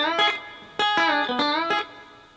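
Country rock lick on a clean electric guitar, a quick run of picked notes with string bends that slide the pitch upward, played close and alone without any talking.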